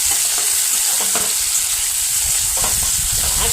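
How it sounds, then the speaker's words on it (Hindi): Potatoes frying in hot oil on a steel stove, a close, continuous sizzle and crackle with a few scraping stirs breaking through, steady throughout and free of talk. "अब तेल में आलू को थोड़ा फ्राई कर लेंगे, फ्राई। थोड़ा सा फ्राई कर लेंगे।"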